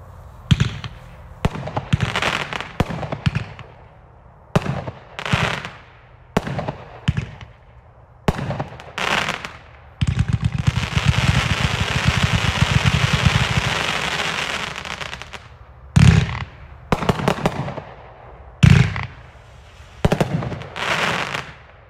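A Sky Bacon 43-shot, 500-gram fireworks cake fires a run of sharp, irregular booms, then a dense, sustained crackling stretch, before ending with more scattered bangs, loud and close.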